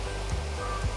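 A brook branching off the East Okehampton river on Dartmoor, near Okehampton, flows in a steady, broadband rush of water, close and continuous without any voices.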